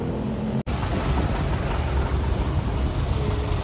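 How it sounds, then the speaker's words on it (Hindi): Steady roar of highway traffic in Greenhills, Philippines, with low rumbling engines and a continuous dense wash of road noise, broken by one brief dropout near the start. "बहुत शोर है क्योंकि ये आई थिंक हाईवे वगैरह है यहाँ पे"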